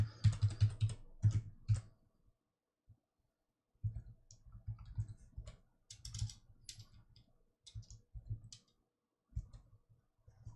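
Keys clatter on a computer keyboard in irregular bursts of close, quiet clicks separated by brief pauses, with no voices.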